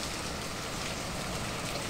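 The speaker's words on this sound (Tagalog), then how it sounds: "Umuulan na ngayon." Steady rain pouring down at a riverside fishing spot, a dense even wash of drops nearby with no other sounds.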